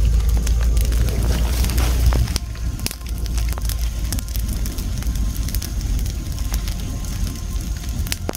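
An open fire burns loudly and steadily up close, a continuous roar with scattered sharp crackles and pops, a heavier low rumble in the first couple of seconds, no voices over it.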